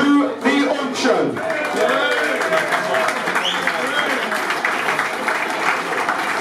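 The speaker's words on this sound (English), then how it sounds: "Can we have a round of applause" An audience at a charity auction claps in sustained applause, a dense crowd patter that holds steady throughout, with voices mixed into the noise.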